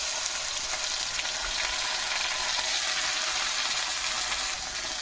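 Ginger garlic paste frying in a pan for kadai chicken, a steady, loud, hissing sizzle that holds evenly throughout with no talking.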